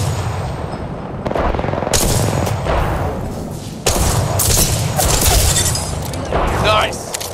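Prowler rapid-fire bursts in the video game Apex Legends, loud repeated volleys with thumping impacts, broken by short pauses and reloads, under game voice callouts.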